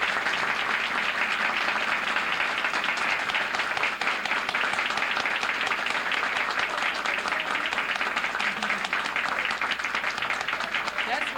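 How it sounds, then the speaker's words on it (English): Sustained audience applause at a 1980s ceremony honoring essay competition winners, steady and dense throughout, a broad wash of many hands clapping without letup. "I think we need to give her an applause"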